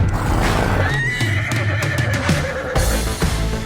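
A horse whinnies loudly and close by at a horsemanship demonstration with a liberty horse and a ridden horse, the neigh rising and trailing off over a dense background of hoof and rustling noise.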